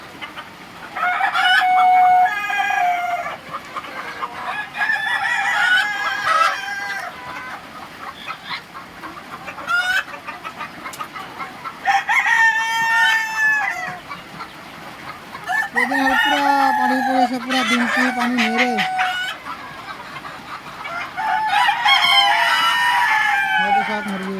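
Backyard chickens and a rooster in a rain-soaked coop with a laying spot and grass tied over the top cluck and crow repeatedly at close range, mixed with someone talking throughout.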